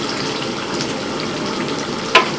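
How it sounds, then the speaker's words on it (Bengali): Hot water goes into a hot pan of chicken curry, cooked in a large batch for a wedding, and sets off a steady, loud sizzle that ends in a brief metallic clink. "এবার একটু জল দিয়ে দেবো"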